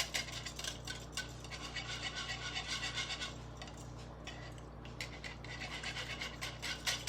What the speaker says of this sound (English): All right, I'm gonna grab a whisk. Start whisking this together.